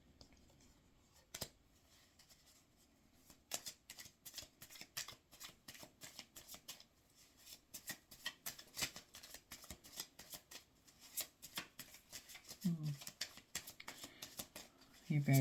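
Tarot cards scattering and being gathered up, a run of soft rapid card slaps and shuffling rustles, close and fairly quiet, with a voice talking over them.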